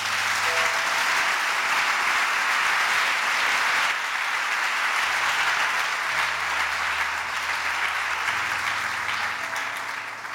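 Church congregation applauding steadily and loudly for the full length, a dense wash of clapping with a faint murmur underneath, tapering slightly at the end.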